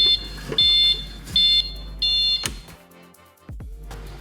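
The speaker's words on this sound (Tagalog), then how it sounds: "alarm for safety parking and backing" Loud electronic reverse parking alarm on a Toyota Raize beeping in repeated bursts, each held about half a second, over steady background music with no talking.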